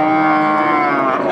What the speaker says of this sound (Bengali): বিক্রয়যোগ্য শুকনো হাড্ডিসার গরু দেখাবো